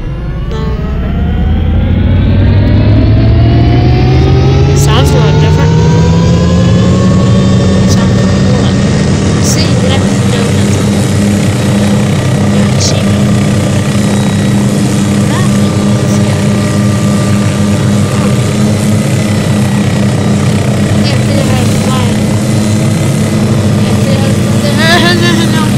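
A small propeller plane engine in the video game Garry's Mod drones loudly and continuously, its pitch rising as it revs up, then holding a steady roar.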